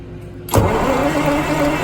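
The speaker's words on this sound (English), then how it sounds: "The engine's turning over. The starter's working." A Detroit Diesel 6-71 marine engine on a boat is quiet, then abruptly cranks and catches, settling into a loud, steady, rumbling run close by.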